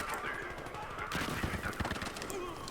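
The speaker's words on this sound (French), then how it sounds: "Il m'a suffi d'une seule balle pour éliminer l'ennemi." Sniper rifle fire in the multiplayer shooter Battlefield Hardline, an AWM bolt-action rifle, heard as sharp reports and clattering bursts within a dense, continuous din of game combat, loud and close.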